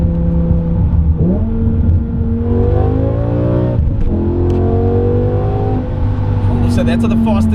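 A BMW 850i fitted with a V10 engine revs hard, a loud, steady engine drone that sweeps upward in pitch through several climbs, each dropping back before rising again, close up and alone.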